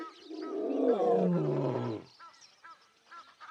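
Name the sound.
lioness roaring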